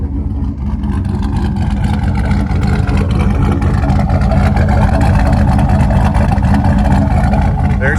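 A 2005 GMC Sierra AWD regular cab with an LQ4 engine, 78mm turbo, BTR stage 2 turbo cam and side-exit exhaust idles with a loud, steady, deep rumble close by that holds constant throughout.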